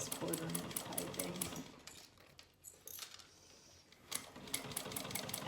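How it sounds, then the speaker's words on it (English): A sewing machine stitches 1/4 inch piping onto a gusset in quick rapid bursts, pausing briefly in the middle before running again, close and fairly loud. "when I stitch that piping, when I put the gusset on, and when I stitch that piping"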